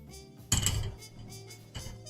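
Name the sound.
metal nippers cutting plastic model runner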